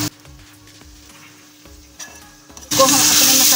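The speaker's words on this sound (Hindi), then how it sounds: "तो हम अपने मसाले को भूनते हैं।" Chicken pieces and masala frying in a pot for degi aloo gosht, a quiet faint sizzle that suddenly swells into a loud, steady, hissing fry near the end, with occasional stirring clinks.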